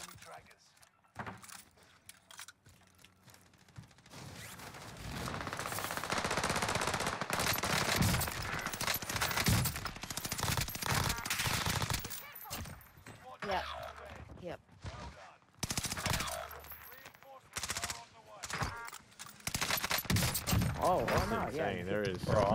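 Gunfire in Call of Duty: Vanguard Warzone on Rebirth Island, long stretches of rapid automatic bursts with scattered single shots, loud and dense, mixed with players talking over voice chat.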